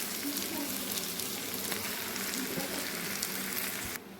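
Pumpkin frying in a hot pan gives a loud, steady, close sizzle that crackles without pause, dropping slightly in level right at the end.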